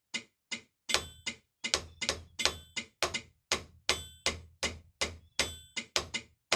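Drum accent pattern on a warm-up exercise, all accents played with the right hand at low stick height: a steady run of sharp, close stick strokes alternating louder accents with softer taps, no voices.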